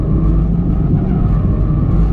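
Mitsubishi Lancer Evo MR engine pulling hard at full throttle out of a corner on a figure-eight track, a loud, steady, dense roar with a low rumble that holds without a break.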